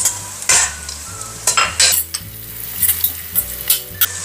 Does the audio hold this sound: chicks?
no